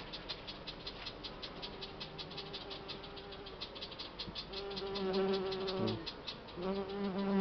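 Buckfast honeybees buzz around an open hive with capped brood, a steady close insect drone with shifting pitches and some handling noise.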